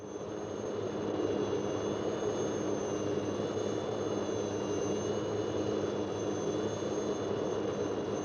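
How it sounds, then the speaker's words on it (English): A loud, steady helicopter turbine whine with a high-pitched tone roars without letup, close and continuous, rising slightly in the first second, during a 1966 military resupply flight in Borneo. "the helicopter goes on to complete its mission, the resupply of an existing fort"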